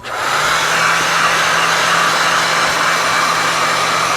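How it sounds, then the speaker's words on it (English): A hair dryer switches on and blows steadily with a loud, even whoosh and faint motor hum, running without pause. "I'm going to put my hair dryer on"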